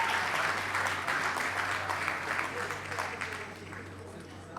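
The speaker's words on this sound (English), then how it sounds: "Please clap for yourselves." An audience at a victory party in Nigeria breaks into dense, sustained applause that fills the room, then gradually thins and fades toward the end.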